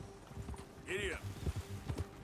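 Horse hooves clop rhythmically in Red Dead Redemption 2, a steady moderate gait under game dialogue, with a brief whinny partway through.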